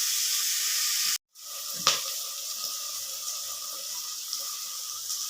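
Onions sautéing in a pan give a steady, close sizzling hiss. It cuts out for a moment, returns with a brief knock, then carries on evenly with no speech.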